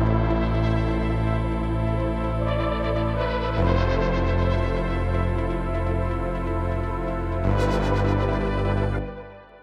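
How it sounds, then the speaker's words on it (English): Layered melodic techno synths made in Serum play together, a loud sustained chordal pad with a fast arpeggio on top, the sound changing at a few points before fading out at the end. "Together, all the synths sound like this."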